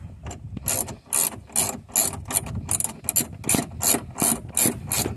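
A hand ratchet tightens a bolt on a 2008-2014 Dodge Challenger door window, making a loud, close run of rapid clicking bursts, about a dozen quick strokes repeating in an even rhythm, with no speech.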